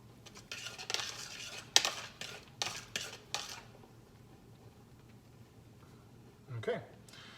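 A spoon clinks and scrapes against a pot while root vegetable soup is stirred, in a burst of quick metallic knocks followed by quieter scraping and one last clatter.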